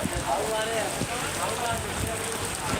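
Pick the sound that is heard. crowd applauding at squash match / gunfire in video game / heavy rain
heavy rain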